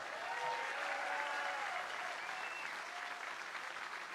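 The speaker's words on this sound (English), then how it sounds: "please put your hands together and give a really nice welcome and an applause to" Sustained audience applause at a showcase contest finals, a dense, even wash of clapping from a crowd, moderately distant and lasting throughout.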